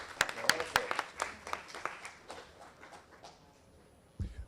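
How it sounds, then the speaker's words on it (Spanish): Conference audience applauding a congressman, a burst of clapping that starts strong and thins out over a few seconds, followed by a short low thump near the end. "Brindamos un fuerte aplauso al congresista Octavio Salazar"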